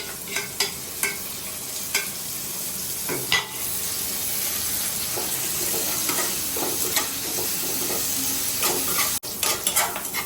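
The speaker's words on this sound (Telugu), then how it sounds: "ఫస్ట్ జీలకర్ర వేస్తున్నాడు. నెక్స్ట్ పోపులు." Oil sizzles and crackles steadily as cumin and tempering spices hit a hot pan, with a spoon stirring and scraping the pot, close and fairly loud.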